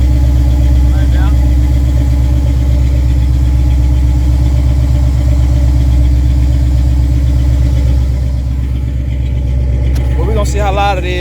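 Truck with new exhaust mufflers idling nearby, a steady, loud, low throbbing rumble that continues throughout, with a short stretch of talking near the end.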